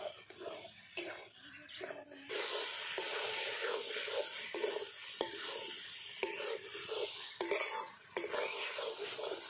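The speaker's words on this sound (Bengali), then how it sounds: "টমেটো বাটা, বেটে রাখা পেঁয়াজ দিয়ে ভালো করে কষিয়ে নেব।" Small new potatoes frying in a pan with tomato paste and onion paste, stirred with repeated scraping strokes over a soft, fairly faint sizzle that swells after a quiet start.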